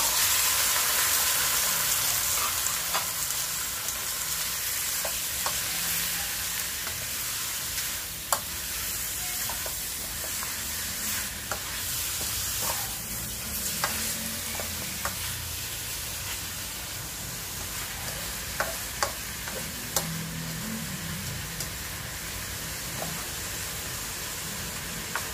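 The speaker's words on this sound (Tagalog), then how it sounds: "natin ilalagay dito yung ating chicken para isangkot siya natin itong ating bawang sibuyas at luya." Chicken sautés with garlic, onion and ginger under a steady, loud sizzle and hiss. Occasional stirring scrapes and clicks break through at irregular intervals and no one speaks.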